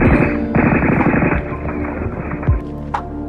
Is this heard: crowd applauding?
no